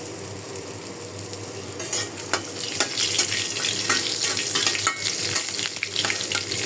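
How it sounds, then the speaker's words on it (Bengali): Dried red chilies frying in mustard oil in a wok, giving a steady close sizzle and crackle that swells and grows busier partway through, with scattered pops and no talk. "তার সবার আগে আমি শুকনা মরিচটা ভাজা নামায় রাখি।"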